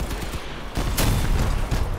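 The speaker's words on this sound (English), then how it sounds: "Oh, sweet cannon hit." Cannon fire in the Crossout vehicle combat video game, a sharp loud blast followed by rumbling impact and crackling gunfire, dense and close.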